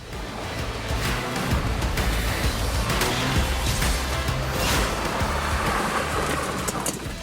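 A car slides sideways on loose gravel, loose stones spraying and crunching under the tyres in a continuous loud roar of grit and engine noise, with no talking.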